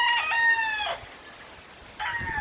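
A rooster crows loudly and close by at a game farm, a harmonic call broken off briefly, then starting again near the end over faint outdoor background.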